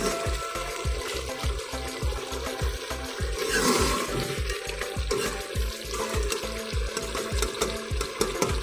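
Ground coriander and cumin being stirred into a hot pan of oil for chicken jalfrezi: steady sizzling and frying hiss with regular scraping strokes of a spoon, close and moderately loud, no talking.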